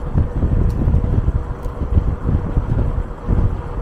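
Heavy wind buffets a helmet at the rider's ears while an e-bike moves at speed, a constant loud rumbling roar with no talking.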